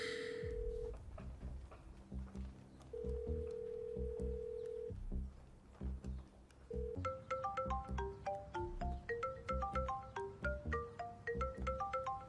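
A telephone rings in long repeated electronic tones, then breaks into a rapid melodic ringtone pattern of bright beeps, heard clearly with no talking.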